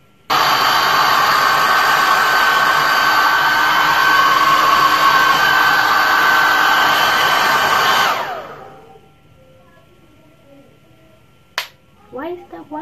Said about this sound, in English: So let's go dry the hair